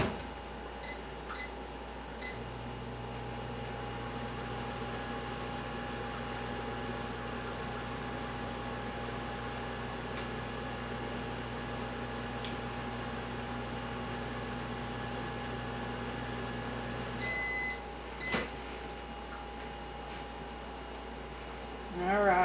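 A new microwave oven hums steadily while melting chocolate, a constant droning tone that runs for a long stretch before stopping, followed by beeps and a click.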